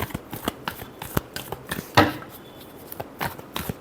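Tarot cards being shuffled, a rapid run of crisp riffling flicks and taps close to the microphone, with one louder burst partway through; no voices.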